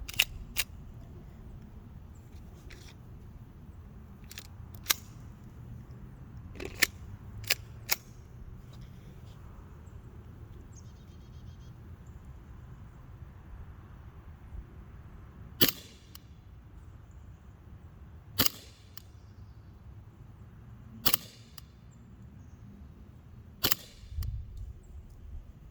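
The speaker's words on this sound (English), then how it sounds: "I am going to shoot the Glock 17 Gen 4." An Umarex Glock 17 Gen 4 blowback BB pistol fires about a dozen sharp, snappy shots, some in quick pairs and others spaced several seconds apart, over a faint low background hum.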